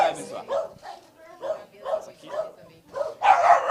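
A small dog, the committee mascot, barks in short repeated bursts at an outdoor blessing on the feast of St. Francis, heard close and mixed in with people talking nearby.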